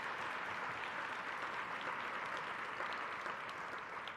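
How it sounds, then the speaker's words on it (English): An audience at a Columbia Law School event applauds, a dense, steady wash of clapping from many hands that carries on evenly and fades slightly at the end. "we want to give a round of applause to Dean Lester at Columbia Law School"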